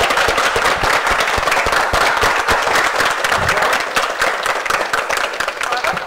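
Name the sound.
audience applause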